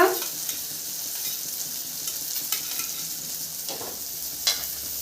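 Rohu fish pieces sizzling as they fry in a hot pan, a steady hiss marked by a few sharp stirring scrapes, close and with no talking.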